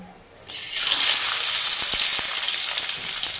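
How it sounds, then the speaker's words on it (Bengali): Chopped onion hits hot mustard oil in a wok, bursting into a loud, steady sizzle after a brief quiet moment, the hiss holding strong and bright throughout with a few faint scraping clicks. "এবার এই তেলের মধ্যে দিয়ে দেব একটা মাঝারি সাইজের পেঁয়াজ কুচি"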